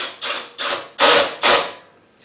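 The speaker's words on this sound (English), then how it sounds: "I've got my drill set to slip, so we can see" A cordless drill with its clutch set to slip, driving screws into wood while building a potting bench, gives four short rasping, ratcheting bursts in quick succession, loud and close, with no talking.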